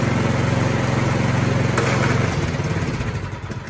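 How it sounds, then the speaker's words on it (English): A Cub Cadet 524 snow blower runs with its auger engaged, its small engine giving a steady, loud, close drone that eases slightly near the end. "I'm so used to running the machine and leaving the auger run, so I never get a clog"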